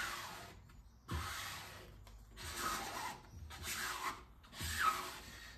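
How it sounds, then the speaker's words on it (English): A table rattles and rubs in repeated rough scraping bursts while fabric is brushed and smoothed during decoupage work, each stroke lasting about a second with short quiet gaps between, close and fairly quiet. "Sorry about the rattle on the table, that's annoying, isn't it?"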